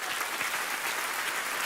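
Audience applause, a brief dense burst of many hands clapping at even strength throughout, no voices over it.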